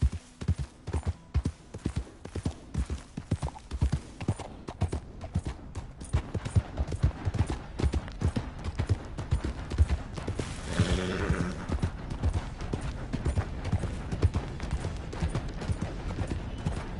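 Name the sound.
horse hooves and neighing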